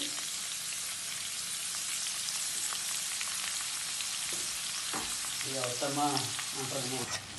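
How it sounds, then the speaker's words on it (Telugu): Onions fry in a pan as the base for a fish curry. There is a soft, steady sizzle with faint stirring, and a brief tonal, voice-like sound appears near the end. "ఉల్లిపాయలు వేసుకొని బాగా ఫ్రై చేసుకున్నామండి"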